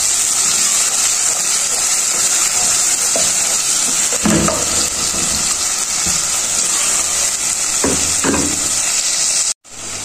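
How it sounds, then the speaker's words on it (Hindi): Tomatoes fry in a pan for chana dal masala with a loud, steady, close sizzle, broken by a few stirring scrapes and a brief cut near the end. "टमाटर भी यहाँ पे हमने थोड़े से भून लिए"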